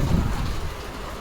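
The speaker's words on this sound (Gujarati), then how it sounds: "અને ફૂલ પવન છે અને ફૂલ વરસાદ આવે છે." Strong wind with heavy rain outside a home, a loud low roaring rumble with dense wash of rainfall, strongest at first and easing slightly over a moment.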